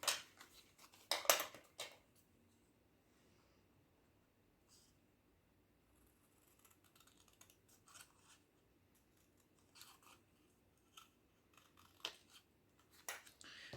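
Scissors snip through folded paper along a crease while making a spring-themed scrapbook album, with quiet crisp cuts in short bursts, a cluster early on and a few more spaced snips later, close to the microphone.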